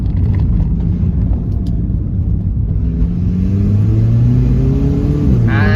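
A VW Polo GT TSI with a Stage 3 tune at about 170 hp accelerates hard, its turbocharged engine and exhaust rumbling loud and close, with the engine note climbing steadily as it revs up.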